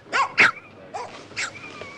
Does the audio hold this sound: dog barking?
yes